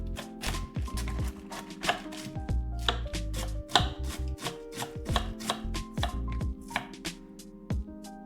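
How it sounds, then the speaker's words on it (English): Rapid knife chopping as cabbage is finely shredded on a cutting board, dozens of quick crisp strikes in a steady rhythm, close and fairly loud with no talking. "Shred the cabbage finely."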